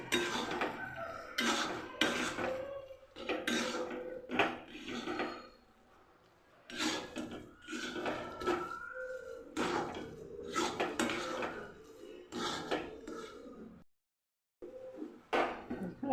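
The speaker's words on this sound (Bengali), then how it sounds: "ভালো করে নাড়াতে থাকবো এটা ততক্ষণ অবধি নাড়াবো যতক্ষণ না এটা কড়াইয়ের গা থেকে ছেড়ে যাচ্ছে" Repeated scraping and clanking of a utensil against a metal wok while stirring pumpkin dhoka mixture, in bursts with brief pauses between stirring strokes.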